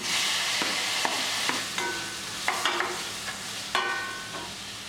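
Mixed vegetables such as capsicum tip into melted butter in a pan for sambar rice, giving a steady sizzling fry broken by a run of sharp scraping stirs and clatters, close and alone.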